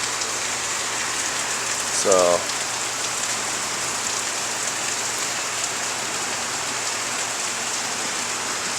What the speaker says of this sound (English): Today is just pounding rain though